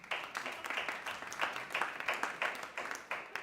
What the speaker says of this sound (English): I have a note to hold for applause